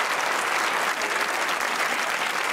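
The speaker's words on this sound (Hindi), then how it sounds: "ताली बजनी चाहिए थी।" Steady, dense applause from a crowd fills the whole stretch, loud and continuous without a break.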